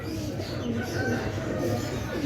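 Pigeons coo in a low, continuous murmur against a busy background, steady throughout without a clear break.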